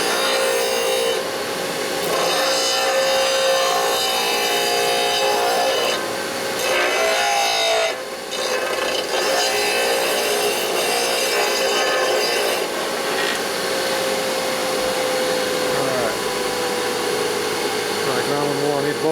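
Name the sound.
grinding brake shoe lining to fit Harley panhead drum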